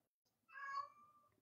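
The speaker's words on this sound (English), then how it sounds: "My cat is speaking." A single cat meows once, close and clear, in a short drawn-out call against near silence.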